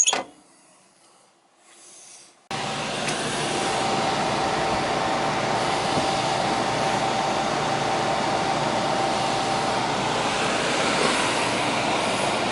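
A PTAC heat pump unit switched on and running, blowing air in steady broadband noise with a low hum, starting abruptly after a near-silent opening and holding constant.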